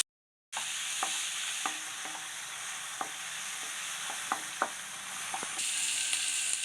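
Sliced onion and tomato sauté in a pan with a continuous close sizzle, broken by light, evenly spaced clicks and scrapes of a stirring spoon. No one speaks.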